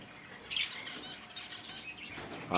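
Pet lovebirds and finches in a bird shop, with a soft rustle of fluttering wings and faint chirps against a steady background hum.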